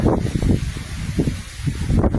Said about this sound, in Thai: ก็ไม่มีลมแรง แต่วันนี้ลมแรงนะ